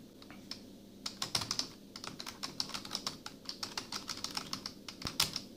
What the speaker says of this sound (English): Lenovo Calliope external keyboard